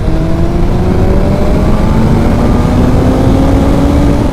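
A KTM 1390 Super Duke and a BMW M1000R accelerate side by side in fourth gear, their loud, close engine notes rising steadily together in pitch without a break.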